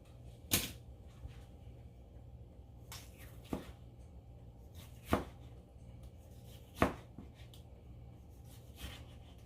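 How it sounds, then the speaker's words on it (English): Knife slicing through a tomato on a cutting board, a few sharp separate cuts spaced a second or two apart over a low steady background hum. "Go ahead and slice this tomato."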